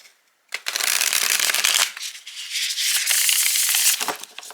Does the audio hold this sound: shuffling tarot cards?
yes